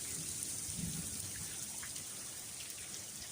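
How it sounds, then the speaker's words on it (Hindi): Steady rain in Murree, Pakistan hissing continuously, a soft even wash of drops with no voices. "और ये सुबह से बारिश है"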